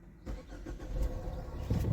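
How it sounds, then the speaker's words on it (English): A car engine being started up, a troubled car with its engine light on: a brief crank followed by the engine catching and rumbling to life, close and moderately loud. "let's see if she has issues again when I try to start it up again"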